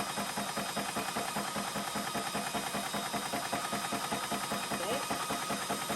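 An Orcair portable PCP air pump runs steadily close by, a continuous rapid mechanical chugging with hiss, even and loud throughout without pause.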